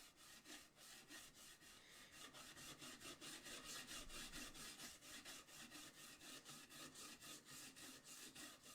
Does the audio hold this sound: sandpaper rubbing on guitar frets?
yes